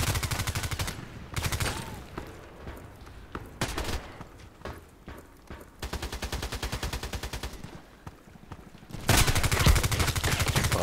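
Automatic shotguns fire in a video game in loud bursts of rapid, repeated blasts, broken by short pauses and quieter stretches, with one heavy final volley near the end; nobody speaks.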